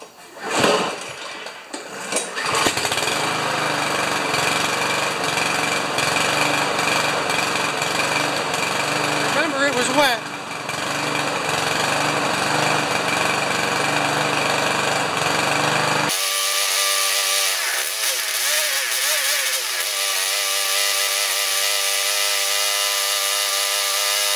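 A Yardworks lawn mower engine sputters as it tries to start, then catches and runs with a loud, steady, rough drone that holds for many seconds before the sound changes abruptly.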